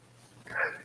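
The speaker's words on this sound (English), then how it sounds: "the dog wants the breadstick" A dog begging for a breadstick lets out one short, high whimpering yip close by, rising quickly out of low room noise.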